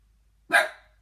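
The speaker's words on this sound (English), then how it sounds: "I don't know what she's barking at." A single sharp dog bark, close and fairly loud, with a quick decaying tail against an otherwise quiet background.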